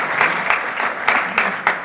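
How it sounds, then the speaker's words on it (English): At a chamber of commerce breakfast, an audience gives a short round of applause, clapping in loose, uneven bursts that rise and fall over a couple of seconds. "Let's have a round of applause for"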